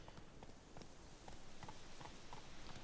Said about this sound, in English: I'm going to call the horse Roach